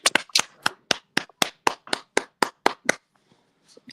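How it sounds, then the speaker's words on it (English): About a dozen sharp, evenly spaced hand claps in a quick rhythm on a morning radio show, close and loud, stopping abruptly with silence after. "Let's give a round of applause to Kanye"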